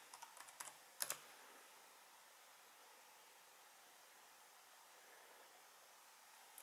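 Keys clack on a Pinebook Pro laptop keyboard as a terminal command is typed, a quick run of faint taps with one sharper cluster, followed by quiet background hiss and no talking.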